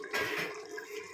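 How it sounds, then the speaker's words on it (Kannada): Prawn biryani masala boiling in a pot gives off a steady, close bubbling and sizzling hiss that stays fairly even throughout, with no voices. "ನೋಡಿ ಕುದೀತಾ ಇದೆ."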